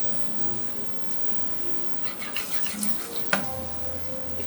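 Onion cooks in a pan over heat, a steady close sizzle and frying hiss with a light stir clink near the end, no talking.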